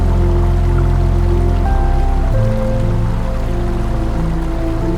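Heavy water rushing over Hundru waterfall on a large river after a dam released floodwater following a cyclone, a steady, loud, continuous roar with no voices.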